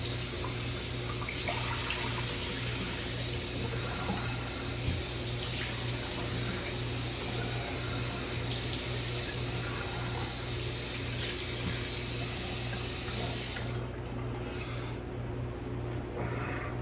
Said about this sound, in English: Let's rinse off.